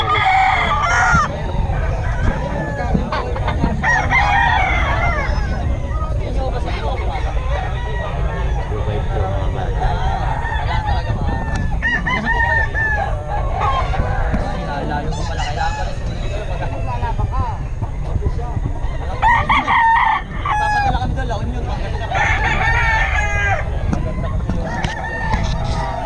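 Roosters crow repeatedly at a crowded festival expo, their calls mixed with clucking and heavy crowd noise, while people talk and haggle nearby.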